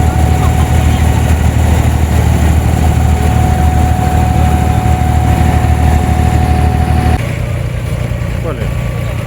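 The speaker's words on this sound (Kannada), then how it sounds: "ಬರ್ ದುಬೈಯಿಂದ ದೇರ ದುಬೈಗೆ ಬೋಟ್ ರೈಡ್" Engine of a boat crossing from Bur Dubai to Deira, a loud, steady droning hum with a whine above it, dropping slightly in level near the end as the pitch shifts.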